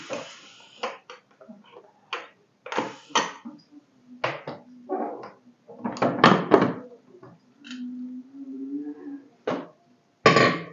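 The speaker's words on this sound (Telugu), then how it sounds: "ఇప్పుడు మనం విజిల్ తీసేసి మూత తీసేస్తున్నాం" Metallic clanks and clicks sound up close as a pressure cooker's weight and lid are lifted off, with short scraping knocks between pauses.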